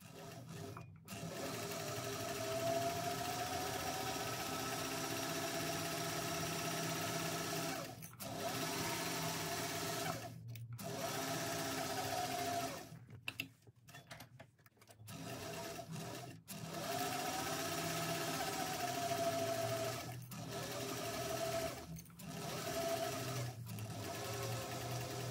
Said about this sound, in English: to sew through the top with 3/8 of an inch seam allowance